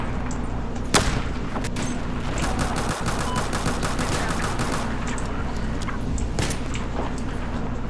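Dense, sustained Battlefield 4 gunfire with rapid automatic bursts and a few sharp louder shots, continuous and loud throughout with no talking.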